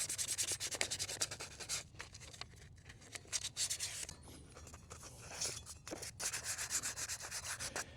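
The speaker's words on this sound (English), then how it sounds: "So I'm using 400 grit 3M sandpaper to give it a little edge here when I use my primer." Hand sanding of a Bronco A-pillar light with 400 grit 3M sandpaper, prepping it for primer: close, steady rubbing strokes in a back-and-forth rhythm with short pauses, heard alone.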